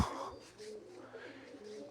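Pigeons coo softly in the distance, faint low murmurs over a quiet background after a brief knock at the start.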